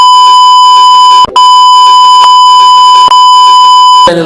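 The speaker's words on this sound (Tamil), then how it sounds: "என்ன கொஞ்சம் பீப் போட்டுக்குப்பா" Censor beep in a Tamil comedy talk show, a loud continuous electronic tone at a single pitch with a brief break, running over muffled speech underneath.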